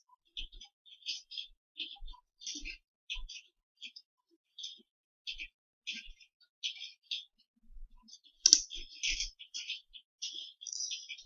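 Crisp, quiet mouse clicks come one after another while someone navigates the Google Ads interface, with a few brief pauses between them and no other sounds.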